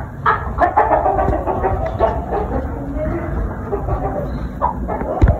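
Hens cluck in a dirt yard, with several short, close clucks and calls scattered over a few seconds and a background voice or two nearby.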